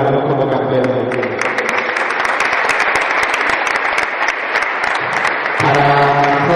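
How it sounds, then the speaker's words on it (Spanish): Sustained applause from an audience honoring basketball world champion Carlos in Marbella, dense clapping throughout, with a voice cutting in near the end. "se merece un fuerte aplauso a Carlos como campeón del mundo"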